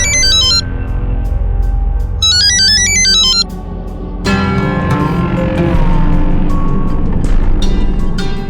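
An electronic phone ringtone chirps in short melodic bursts, pauses, then rings again before giving way to a rumbling engine-like background.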